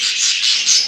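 A pet budgerigar chirps in a home breeding setup, a brief, close, bright twittering burst lasting under a second.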